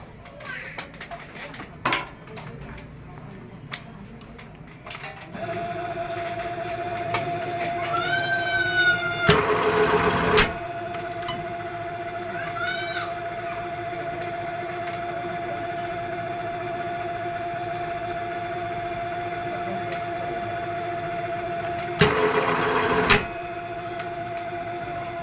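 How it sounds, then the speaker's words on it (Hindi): A button sewing machine runs, holding a steady mechanical hum with a tonal whine and periodic rising whirs, broken by two loud bursts of clattering noise. Faint background noises are heard before the motor starts. "तो अभी हम मशीन आपको चला के दिखाएंगे।"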